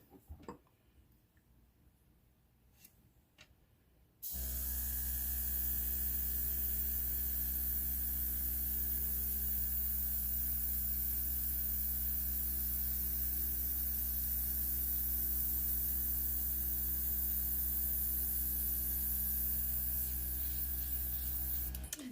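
Steady airflow blown across wet alcohol ink on a flower painting, a loud continuous rushing hiss that starts abruptly after a few seconds of quiet and holds nearly unchanged to the end.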